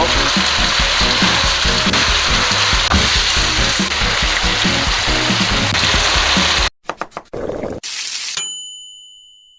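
Bean sprouts and mixed vegetables stir-fry with thinly sliced beef brisket, a loud, dense sizzle under rhythmic stirring that stops abruptly, followed by a few metal clangs and a ringing ding; no speech.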